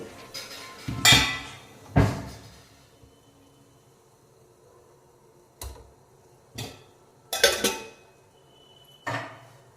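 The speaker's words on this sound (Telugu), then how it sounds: "వాటర్ కొంచెం మరిగాక ఈ చిన్న గిన్నె అందులో పెట్టి మూత పెట్టి కవర్ చేయాలి" A small bowl being set into a pot of boiling water and then covered with a lid, giving several sharp metallic clanks and clinks in irregular bursts, close and loud, with quiet gaps between them.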